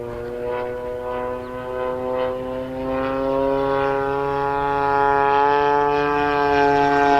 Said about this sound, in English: we're gonna do a high-speed low pass